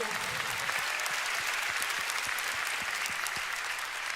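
Steady applause from a church congregation, dense clapping sustained throughout at a constant level.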